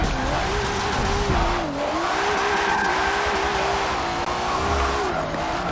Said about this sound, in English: So we're just going to slide around this track so that Kyle can be happy